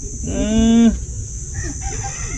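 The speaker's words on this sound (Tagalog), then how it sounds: "Grabe na talaga kadami nitong mga manok na to." A single loud rooster crow close by, followed by softer clucking of chickens in the background.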